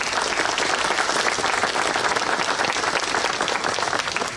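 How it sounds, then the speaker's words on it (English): A large crowd at a Jadotville memorial gathering claps continuously, producing a dense, even roar of applause that holds steady for the whole stretch without any voices on top. "Please give them a big round of applause."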